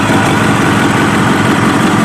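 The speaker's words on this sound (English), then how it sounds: "So it's been idling for about 3 minutes." A Kawasaki ZX7R motorcycle engine idles steadily and loudly up close, a continuous low, even rumble that holds without change throughout, with no talking.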